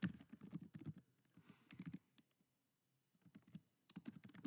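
Fast typing on a computer keyboard while entering a spreadsheet column heading, close clicky keystrokes in quick bursts separated by a brief pause.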